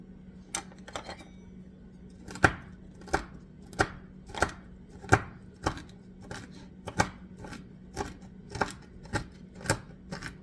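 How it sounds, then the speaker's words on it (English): Sharp knife strikes chopping sunflower seeds on a cutting board, about fifteen separate chops in an uneven rhythm, close and crisp against a low steady hum. "we're just going to do a little bit of chopping on these seeds"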